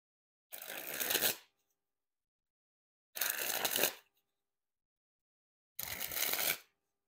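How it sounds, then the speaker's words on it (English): A Theory11 Gold Artisan deck of playing cards being sprung from hand to hand, three separate fluttering bursts of about a second each, close and crisp, separated by silence. "time to test the handling. And first we'll start with the springs."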